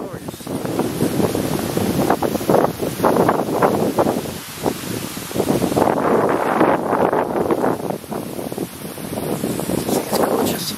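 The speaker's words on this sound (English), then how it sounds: "Now the wind's blowing up." Gusty wind blows across a ridge at High Constantia in St Philip, Barbados, roaring steadily into the microphone with rustling surges, swelling and easing but never dropping out, over the full stretch.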